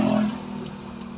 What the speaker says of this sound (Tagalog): Pag bitaw pa lang ng clutch, kahit hindi ka magsilinyador, aandar na yung makina na yan.